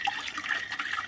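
A plum being rinsed in running water, with a short, steady splash and trickle close by, lasting about a second and with no one talking.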